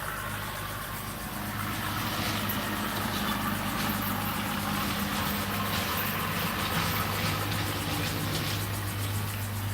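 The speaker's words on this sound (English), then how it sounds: "once this tractor passes by" A tractor passes outdoors as a steady, loud engine rumble with a low idling drone that swells slightly after the first second and holds constant throughout, with no talking.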